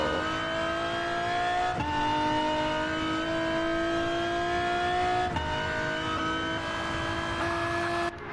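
A supercharged Z34 race car's engine revs and climbs through gears in a racing video game, rising whines broken by two shifts, steady and loud with no talking.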